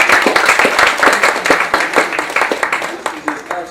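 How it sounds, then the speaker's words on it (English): An audience claps in dense, fast bursts of applause at a live author showcase on a talk show, loud and close, for a few seconds. "Y'all clap for Miss Benita for putting this all together."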